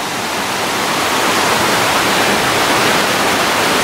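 Waterfall reached on a hike, a loud, steady, broadband roar of falling water that fills the whole clip evenly and continuously, close by with no talk.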